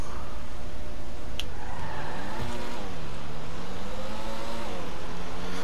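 Engines roar as fast cars accelerate in a GTA video game drag race, loud and sustained, with rising and falling pitch as they shift and a brief tire squeal near the start. No talk is heard.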